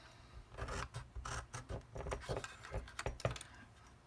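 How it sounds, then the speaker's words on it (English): Scissors cut along scored paper for a Stampin' Up! Hershey Nugget giftbox, a close series of quick rasping snips and rustles in an uneven rhythm, fairly quiet and without talk. "Grab that with your scissors,"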